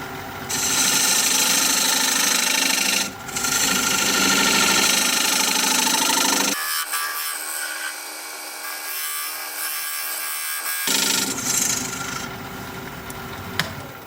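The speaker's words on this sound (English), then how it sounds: "Now I'm going to use this dovetail tool, put a dovetail on the side here." A dovetail tool cuts into a wood turning on a lathe, a loud continuous rasping scrape over the motor's hum that drops briefly, changes character midway, then resumes strongly, close by with no talking.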